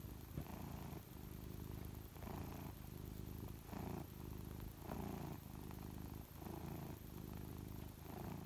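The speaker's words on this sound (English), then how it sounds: "Can you hear her purring?" A cat purrs close up in a steady rhythmic rumble, each breath in and out giving a soft pulsing cycle, with no talking.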